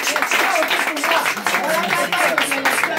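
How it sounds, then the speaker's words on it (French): A crowd at an outdoor referendum campaign rally in a town's central neighbourhood applauds, with steady, dense clapping running the whole time beneath an ongoing voice and crowd chatter. "On applaudit."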